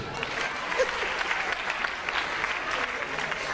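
A studio audience on a television talk show applauds in a sustained, dense burst of clapping with a little crowd noise mixed in.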